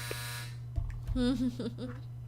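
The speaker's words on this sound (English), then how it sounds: "was my dryer. If you heard a loud buzzing noise, a large noise." A clothes dryer gives off a loud, steady electric buzz, a constant low hum that runs through the whole moment while a person speaks over it.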